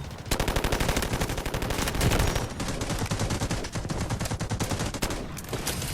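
Continuous rapid automatic gunfire from the Delta Force Mobile shooter game, dense and loud with sustained bursts running through the whole stretch and no talk over it.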